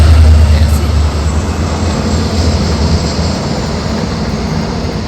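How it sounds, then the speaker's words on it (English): Loud, continuous low rumble of a train passing close to an apartment in Pyeongtaek, South Korea, a steady heavy roar that eases slightly as it goes on, with no talking over it. "That's the train that you keep hearing."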